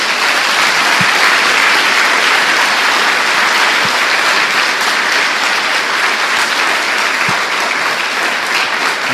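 A church congregation breaks into loud, sustained applause, a thick wall of clapping that keeps an even level from start to finish, with a few sharp louder claps standing out.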